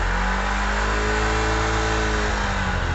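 Car engine revving steadily as the accelerator is pulled during an ignition system check, a loud, close, continuous mid-pitched drone with the pitch holding high throughout.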